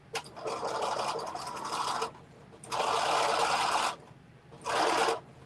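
Sewing machine running over a knit garment in three short bursts of rapid stitching, the last one briefest, close up with quiet gaps between and no talk.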